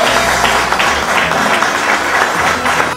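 A crowd applauds the head steward at a Señor de los Milagros religious festival, giving dense, sustained clapping throughout with a low hum beneath.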